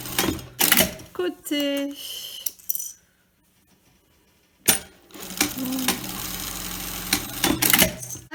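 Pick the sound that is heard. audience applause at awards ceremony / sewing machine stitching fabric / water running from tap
sewing machine stitching fabric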